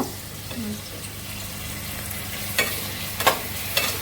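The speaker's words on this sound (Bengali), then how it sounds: "এই যে পেঁয়াজটা একটু লাল লাল হবে" Onions frying in a pan for pulao, a low steady sizzle with a few scraping stirs and clinks near the end, faint voices in the background.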